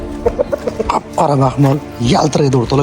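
Ganoy breed rooster, black and weighing over five kilograms, gives a few clucks and a harmonic call, near and fairly loud, with someone speaking over it.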